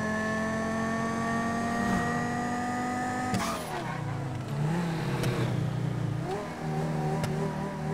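A car engine holds a steady drone, then shifts and climbs in pitch as the vehicle speeds up, close and fairly loud.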